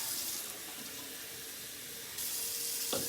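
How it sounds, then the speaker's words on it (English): Tap water runs steadily into a sink for washing makeup brushes, a close, even hiss that brightens partway through as the flow changes, with a brief clatter near the end. "I'm gonna wash my brushes."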